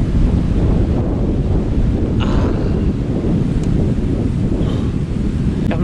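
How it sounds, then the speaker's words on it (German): Strong headwind roars across the microphone of a cyclist riding the Ems cycle path, a loud, continuous buffeting rumble with no speech. "Der Wind ist ja dermaßen eine Qual, ja?"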